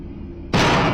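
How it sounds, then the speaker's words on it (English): A firework explodes with a sudden loud blast halfway through after a quiet stretch, then rings on as a sustained roar that fades only slightly. "The firework exploded next to his head and caused a slight loss of hearing."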